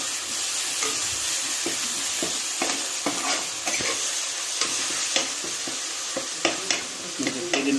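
Ginger, green chili, garlic and pepper paste sautéing in a hot pan, with a steady bright sizzle and frequent spoon scrapes and stirring clicks throughout, close and continuous.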